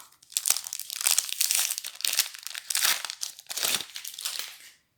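A sachet of football trading cards is torn open and the foil wrapper crinkled in several loud, close bursts of crackling with short pauses between them.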